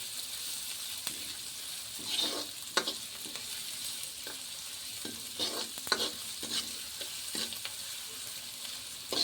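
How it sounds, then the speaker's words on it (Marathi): Onions stirred in hot oil for a patavadi rassa curry, a soft steady sizzle broken by repeated scraping strokes of a spoon against the pan, close and moderately quiet. "आणि याला हलवून घ्यायचं कांद्याला।"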